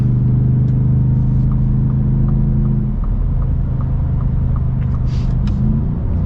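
A 2023 Ford Raptor R truck in sport mode with its engine pulling hard from inside the cab, a loud steady low rumble that shifts pitch partway through as it accelerates, with no talk over it.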